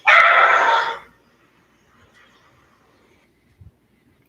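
A dog barks once in a loud, close, drawn-out burst, followed by near silence with only faint background noise and a small knock near the end.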